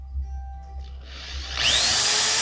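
A power drill bores pilot holes into a model airplane fuselage, a steady high whine building in the final second after quieter low hum, close and loud.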